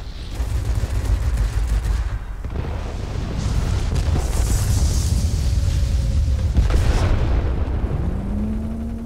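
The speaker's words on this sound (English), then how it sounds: "What could go wrong with frickin' shooting rockets at what, cooling towers?" Rockets fired from a warplane at cooling towers in World of Warplanes burst in a loud, continuous rumble of overlapping explosions over engine drone, with a rising whine near the end.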